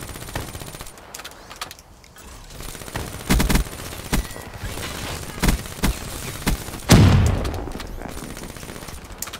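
Rapid bursts of gunfire from a Black Ops 3 multiplayer match, with sharp loud shots clustered near the middle and a heavier blast toward the end over a steady game background.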